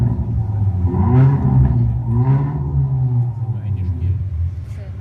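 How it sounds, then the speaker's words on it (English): Hyundai i30 N engine with variable exhaust revs up and down in low, throaty surges, rumbling loudly and steadily beneath a voice speaking throughout. "A responsive and powerful engine sound"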